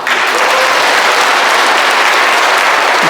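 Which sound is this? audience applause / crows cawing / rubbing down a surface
audience applause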